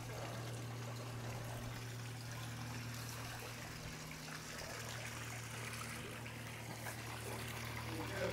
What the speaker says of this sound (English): nice waterfall feature out here off these big sliders